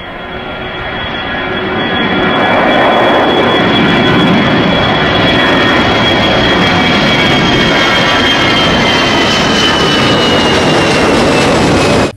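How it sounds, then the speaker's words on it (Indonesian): A loud, steady fighter jet roar, likely from a toy or video, swells over the first two seconds and then holds as a continuous whooshing drone with a high whine on top. "Ini adalah pesawat tempur."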